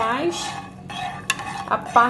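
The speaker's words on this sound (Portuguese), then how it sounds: "quando eu agito, eu faço com que esse leite fique todo a uma só temperatura" Milk is stirred in a metal pan on the stove for homemade yogurt, with scraping and clinking of the utensil against the pan, a few sharp taps standing out over a faint background.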